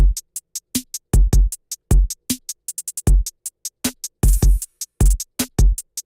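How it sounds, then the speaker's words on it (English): A steady, repeating drum beat: punchy low kicks alternating with crisp snare and hi-hat hits in a tight, even rhythm, loud and close. "the basic drum beat for the rest of this portion of the song is just repeating"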